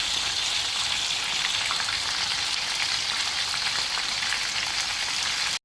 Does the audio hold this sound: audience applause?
no